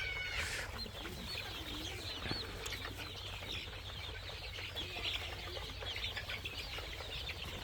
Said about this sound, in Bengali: আমরা মূলত বালিতে মুরগি লালন পালন করে থাকি